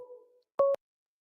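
A telephone line on a radio call-in show gives a short tone, a pause, then a clean, loud busy-signal beep.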